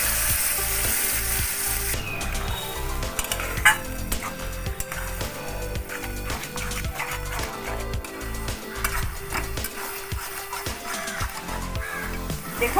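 A paste of ground cashew, charmagaj and boiled onion sizzling and frying in a karahi for shahi mushroom, with a loud continuous crackle and occasional stirring scrapes, close up and without talk.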